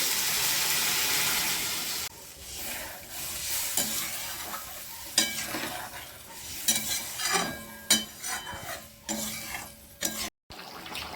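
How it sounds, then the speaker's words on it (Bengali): Potatoes and eggs cooked down with spices sizzle in a pan, a hissing fry broken by scraping spoon strokes and clanks, with a short rush and cut-off near the end. "মশলা দিয়ে আলু আর ডিম দুই কষিয়ে নিয়েছি, এরপর দিয়ে দেবো জল 1 বাটি"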